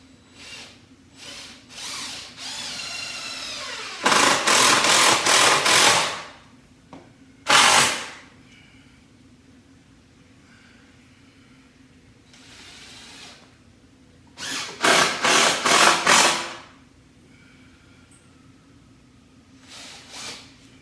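A power drill drives screws into the wooden parts of a table being built with basic tools, with several bursts of whirring at about 4–6, 7.5 and 15–16 seconds, separated by quieter handling.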